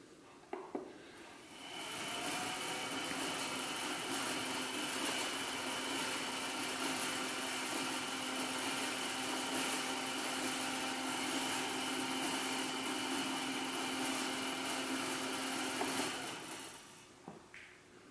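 A spinning rotor on an accelerometer balancing rig whirs up, holds a steady, fairly loud hum for about fifteen seconds, then spins down, with no talking.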